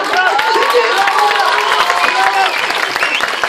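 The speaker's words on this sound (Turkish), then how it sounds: "Evet edebiyat öğretmenine de bir alkış" Applause from a high-school quiz competition audience for the literature teacher, dense steady clapping from a crowd filling the whole moment, close and loud.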